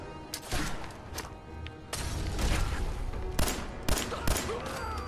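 Rapid bursts of gunfire and blasts crowd together in a chaotic Fallout 4 battle, sharp cracks and booms overlapping with little pause, a turret among the attackers.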